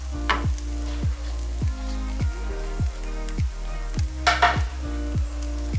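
Grated coconut roasts in a pan for a Kerala koottu curry, a steady sizzle and crackle broken by rhythmic scraping strokes as it is stirred, close and fairly loud with no talk.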